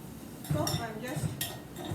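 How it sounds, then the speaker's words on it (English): A spoon stirs onions with salt in a cooking pot for tomato sabji, making a few close metallic scrapes and clinks against the pot over a faint background. "going on stirring it so that it doesn't get burnt"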